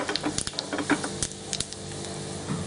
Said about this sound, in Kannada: ತುಪ್ಪಕ್ಕಾದ್ಮೇಲೆ ಸಾಸಿವೆ ಹಾಕಿ, ಸಾಸಿವೆ ಪಟ ಅಂದಮೇಲೆ ಜೀರಿಗೆ ಹಾಕಿ